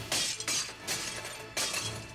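Plates smashing and shattering in a cooking-competition kitchen: three or four loud crashes of breaking crockery in quick succession, each with a bright, scattering burst of shards.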